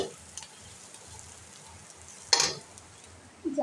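A pan of fish or vegetables frying on a home stove makes a faint, steady sizzle, broken by a sudden louder crackling burst and a few short spikes near the end.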